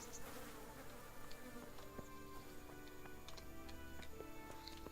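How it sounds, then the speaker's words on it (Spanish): Flies buzzing in the Kingdom Come: Deliverance video game, a faint, continuous insect drone with small ticking sounds scattered through it, heard alone with no voices. "Ahí se oyen moscas"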